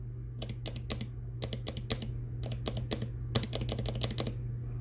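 Fingers type on a keyboard fitted with Prime keyboards T1 switches that have been switch filmed, producing crisp clacking keystrokes in quick bursts with brief gaps over a low steady hum.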